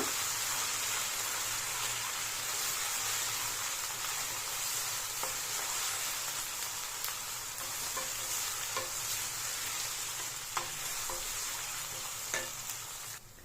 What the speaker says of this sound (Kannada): ಈಗ ಶುಂಠಿ ಬೆಳ್ಳುಳ್ಳಿ ಪೇಸ್ಟ್ನ ಹಾಕ್ತಿದ್ದೀನಿ ಹಸಿ ವಾಸನೆ ಹೋಗೋವರೆಗೂ ಚೆನ್ನಾಗಿ ಫ್ರೈ ಮಾಡ್ಕೊಳ್ಳಿ